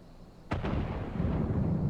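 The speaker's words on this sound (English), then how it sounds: "Cannon fire! Where did it come from?" A cannon fires in the video game Final Fantasy XIV, a single sudden loud boom followed by a rumbling, rolling tail that lingers without voices.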